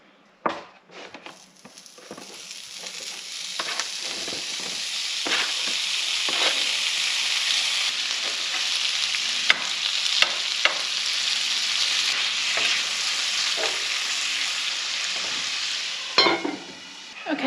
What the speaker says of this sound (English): now while that's frying up and making some great bacon fat for me